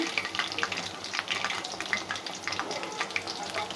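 Food frying gently in oil over low heat, a soft steady crackle and sizzle with small scattered pops, close by with no voices.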